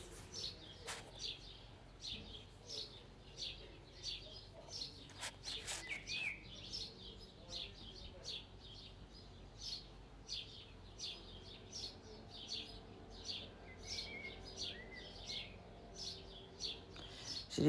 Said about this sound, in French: Je vais avoir des merles, des moineaux. Là, c'est le merle.